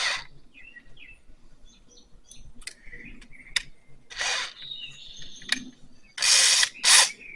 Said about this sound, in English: You gotta make sure it ratchets.